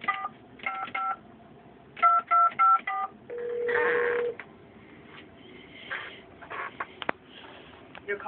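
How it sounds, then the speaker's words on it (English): A telephone number is dialed in a radio studio, producing a quick sequence of close, clear touch-tone beeps in short bursts, with a longer tone and some paper handling between them. "We're going to give Felice a call here this morning"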